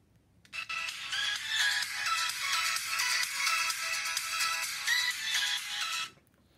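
A Dayton Audio speaker plays a bright, busy test tune with chiming, ringtone-like notes for around five seconds, fairly quiet overall and with no voices, starting and stopping abruptly.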